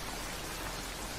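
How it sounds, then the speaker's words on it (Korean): A sudden rain shower pours down at a small harbor at dusk, a dense steady hiss of heavy rainfall filling the short stretch evenly. "갑자기 소나기가 쏟아지기 시작했다"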